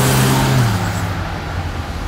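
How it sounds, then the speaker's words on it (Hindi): Road traffic near a school in Dubai: a car's engine hum passes close at the start, then a steady wash of traffic noise continues. "ये देखिए ट्रैफिक"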